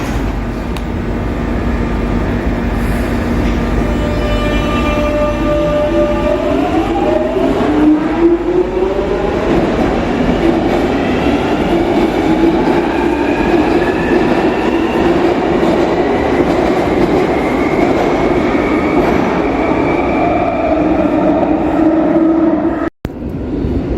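A London Underground Jubilee Line train at Bermondsey station runs loud and close, its motors rising in pitch as it accelerates away. Rolling rumble and faint clatter persist for a long stretch, ending with a sharp thump, and nobody speaks.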